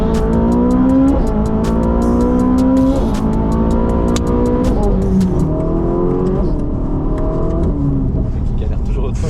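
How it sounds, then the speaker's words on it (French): Ferrari 458 Italia Spider V8 revs hard through successive gears, loud and close from inside the car, its rising and falling engine howl continuous throughout, with people talking over it. "Alors, du coup, 458 Italia Spider."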